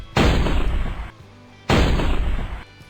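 Two loud, booming tank cannon shots in Farming Simulator 22, each a heavy blast with a long rumbling tail lasting about a second, separated by a short pause.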